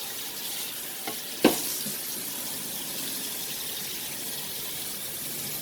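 Water runs steadily from a tap to rinse soap off a vinyl record, a constant close hiss and splash broken by one brief sharp knock early on.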